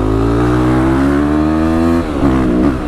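A Harley motorcycle engine running nearly out of gas, loud and close, droning steadily with rising pitch before it stumbles and falters toward the end.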